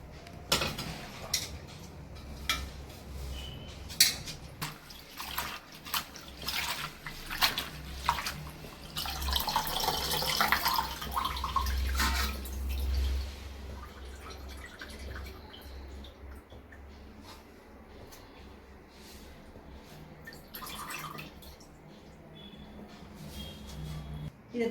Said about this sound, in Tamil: நல்லா தண்ணி ஊற்றி அலசி கழுவி வச்சுக்கலாங்கம்மா